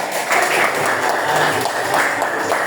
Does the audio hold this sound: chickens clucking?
no